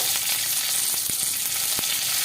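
Food fries in oil in a pan until it turns reddish, with a loud, steady sizzle and a few sharp crackles and pops. No one speaks.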